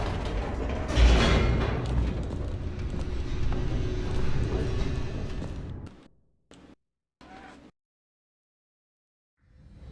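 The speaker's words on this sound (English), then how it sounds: "The elevator raced downward, plummeting towards an unknown fate." Elevator descending in The Stanley Parable, a loud mechanical rattling and creaking rumble for several seconds that cuts out, followed by a few short clunks and then near silence.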